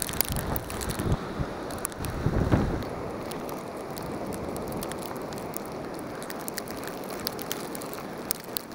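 Wind from a March snow storm rumbles and rushes steadily close to the microphone, with gusty low buffeting early and crackling bursts throughout.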